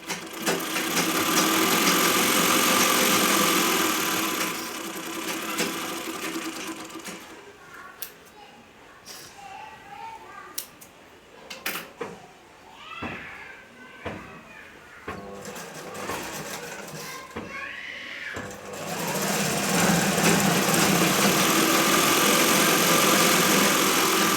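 A sewing machine stitching fabric for a kunchigi hood, a steady high whirring run near the start and again at the end, with a quieter stretch of talk and handling noises between.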